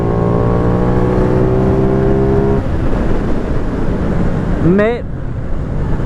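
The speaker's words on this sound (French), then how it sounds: "là je suis monté à 8000 tours, donc beaucoup de bruit, beaucoup de vitesse" A Benelli 752S motorcycle engine at high revs near 8000 rpm gives a loud, steady droning whine that climbs slightly in pitch. Heavy wind rush then swamps it while riding, and a voice speaks briefly near the end.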